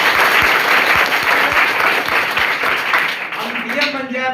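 Schoolchildren at a primary school drug-free pledge event break into loud, dense applause, with a few sharp individual claps standing out before it thins and a voice begins talking at the end.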